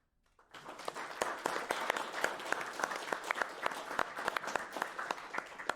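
An audience bursts into sustained applause at a speedrun charity event finale, many hands clapping densely and steadily after a sudden start, close and lively throughout.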